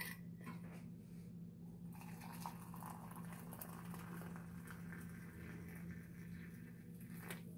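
Water boiling in a home kitchen for coffee gives a very faint, continuous bubbling simmer with a low steady hum beneath, heard alone without talk.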